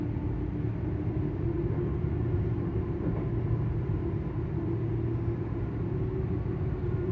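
A steady, droning electric motor of a ScotRail Class 385 train hums with a low rumble, holding even and continuous throughout with no voices.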